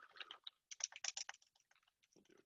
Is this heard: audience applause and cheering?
no